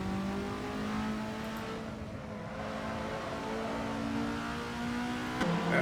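A Lancia car in a driving video game holds a steady, sustained engine note as it drives, with a rising tone and a brief bump near the end. No one speaks.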